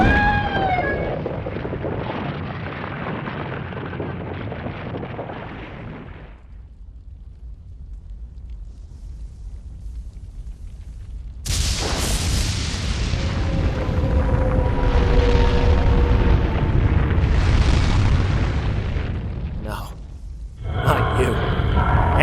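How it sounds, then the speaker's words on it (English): Yasha Blast attack from the Xbox 360 game Asura's Wrath: a loud, sustained blast with a rumbling roar and layered booming texture that swells after a quiet gap, mixed with game music and effects. "Time to finish this off with a patented Yasha Blast."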